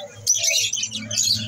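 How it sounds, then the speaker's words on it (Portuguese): Small birds, including a red-cowled cardinal, chirp in an outdoor setting, giving bright overlapping tweets and short calls at moderate distance over a faint low background hum. "Tem uns passarinhos bonitos aqui também, ó."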